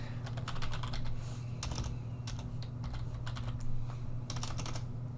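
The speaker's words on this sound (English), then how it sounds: "I'm pretty bad at typing." Keys on a computer keyboard are typed in uneven, close bursts over a constant low electrical hum, with no voices.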